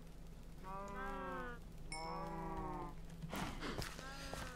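Cows mooing in a breeding tank in a video game, with three long drawn-out moos in sequence and a burst of clattering noise between the last two.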